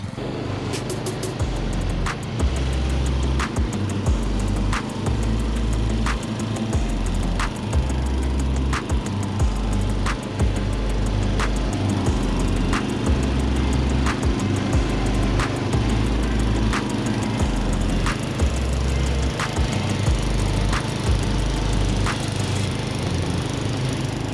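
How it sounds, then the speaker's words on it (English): A 40-year-old vintage LongLife lawn tractor, a barn find, runs steadily while mowing a yard. Its engine drones close and loud the whole time with a faint rhythmic pulse and no speech. "I think I'm gonna try to see if I can mow most of this yard"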